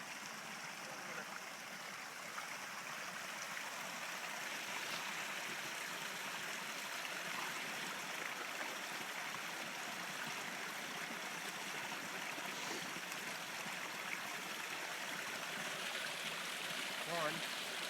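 Steady, soft rush of a flowing stream on the Appalachian Trail, constant and fairly faint, with no clear talk over it.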